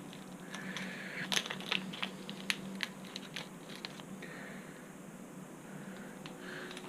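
Screws rattling and clicking inside a plastic bag, handled close up as parts for a Hubsan X4 Pro drone build, giving a series of small sharp ticks and crinkles scattered over several seconds at low volume.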